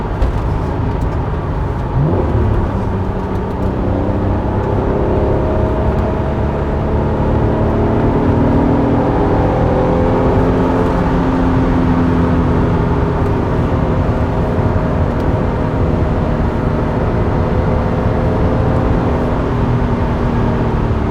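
An Acura NSX sports car drives steadily through a series of turns, its engine note loud and continuous with shifting tones as it accelerates, sustained road and tire noise filling the cabin throughout, with no talking.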